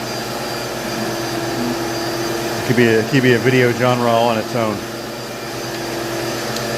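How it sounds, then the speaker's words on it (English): A dust vacuum runs with a constant, even whir across the whole stretch, and someone speaks briefly over it midway. "it's so satisfying to vacuum up every speck of this dust"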